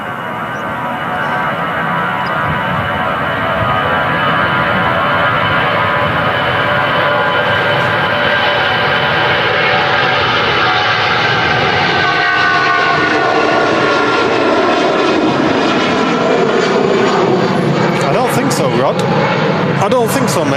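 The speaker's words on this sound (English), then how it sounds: "Old CFM engines making a right buzz." Airliner with old CFM engines departing Manchester Airport, a loud, steady buzzing roar that builds and holds for the whole stretch, broadband and close, with a voice talking over it.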